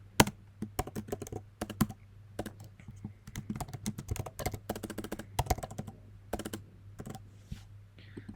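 Fingers type C++ code on a computer keyboard in quick, irregular bursts of crisp key clicks, close and fairly quiet over a steady low hum, with no one speaking.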